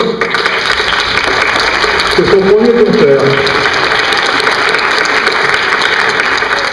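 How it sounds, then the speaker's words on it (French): At a Sainte-Cécile band concert, the audience applauds a flute player who stands to be recognised. The clapping is dense and constant throughout, and a voice speaks briefly over it. "tu peux te lever, on va l'applaudir."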